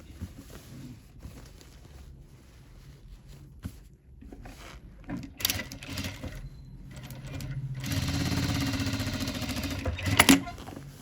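A sewing machine stitches the pleats of a pattupavadai, quiet intermittent whirring bursts with a louder sustained run of stitching near the end, close up.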